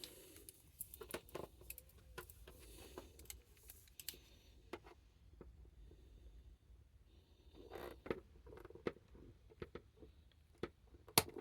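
Scissors snip at a plastic Shadow Trooper helmet part in a series of faint, sharp clicks and crunches scattered unevenly over a quiet background, close by and without speech.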